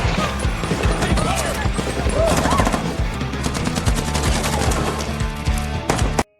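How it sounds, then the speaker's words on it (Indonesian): Dense bursts of rapid gunfire rattle through an action film shootout, overlapping shots and clattering hits mixed with a narrator speaking over them, ending abruptly. "Dan terjadilah aksi baku tembak besar-besaran jilid 2."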